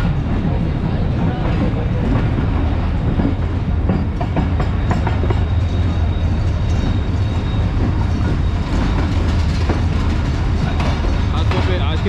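A locomotive-hauled express train rumbles loudly and continuously at a busy station platform, with rail clatter and a constant low drone under background chatter.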